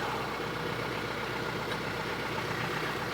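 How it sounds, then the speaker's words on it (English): A tractor engine runs at a steady idle, a loud, continuous low rumble close by with no talking over it. "As long as the tractor's running, we loosen up this bolt."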